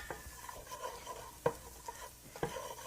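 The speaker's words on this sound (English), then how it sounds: "So I just want to get that stirred a little bit here" Garlic is stirred in a pan, with a faint sizzle under several utensil scrapes and clinks against the pan, one louder knock midway, with no talking.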